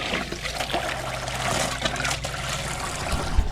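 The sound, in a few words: water hose filling a water container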